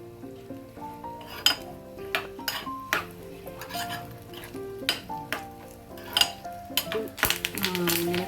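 Coconut pieces frying and crackling in a pan for pineapple payasam, with a low sizzle under sharp stirring scrapes and metallic clinks of a spoon against the pan, irregular and close.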